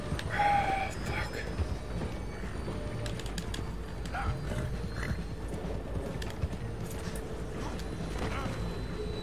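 Horse hooves clip-clopping at a gallop in the Red Dead Redemption 2 video game, a steady rhythmic thudding under a voice talking over the game.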